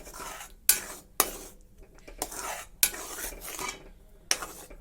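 A spoon stirs fish egg curry seasoned with cumin powder and salt in a pot, giving repeated scraping strokes with several sharp clinks against the metal, fairly close, with no voices.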